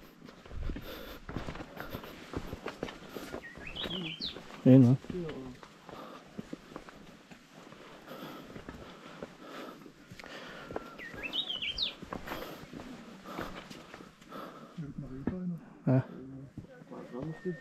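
Birds chirp intermittently in the distance on the Ambangeg Trail of Mt Pulag while people talk nearby, with occasional footsteps and a couple of sharp knocks.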